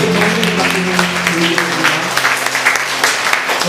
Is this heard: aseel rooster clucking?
no